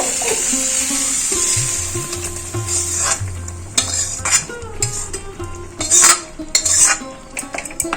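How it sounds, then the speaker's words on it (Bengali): Vegetables are stirred into half-boiled mung dal in a wok, with a metal spoon clinking and scraping against the pan under a light sizzle, along with a low hum and some music. "এই কড়াইয়ের মধ্যে আমি ঢেলে দেবো মুগের ডালটা দেখুন অর্ধেকটা সিদ্ধ হয়েছে এর মধ্যে আমি এবার সবজিগুলো ঢেলে দেবো"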